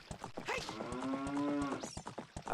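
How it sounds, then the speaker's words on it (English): Epona, the horse in a Zelda: Ocarina of Time randomiser, gives a loud, drawn-out cow-like moo instead of a whinny, heard alone and up close amid game sound. "Epona moos like a cow."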